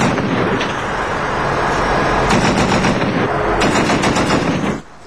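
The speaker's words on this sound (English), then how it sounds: "Using 2 .240 machine guns and a .50 caliber, these soldiers lit up the night with tracer rounds" Two .240 machine guns and a .50 caliber firing tracer rounds at night from a frequently attacked base near the Pakistan border, a loud continuous roar of overlapping automatic bursts that cuts off abruptly near the end, with no talking.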